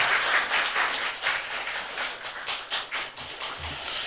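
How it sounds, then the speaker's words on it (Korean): Congregation applauds to welcome a guest pastor at a Sunday evening service at Hanmin Baptist Church, a steady wash of many clapping hands that stays fairly loud throughout with no voices over it. "우리 힘찬 박수로 우리 강사 목사님을 모시도록 하겠습니다."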